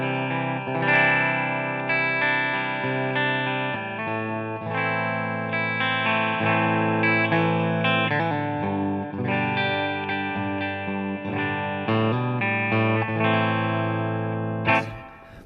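An Epiphone Dave Grohl signature 335 guitar on its bridge pickup, played through the clean channel of a Marshall amp with reverb, rings out chords and picked notes for about fifteen seconds, ending with a sharp strum.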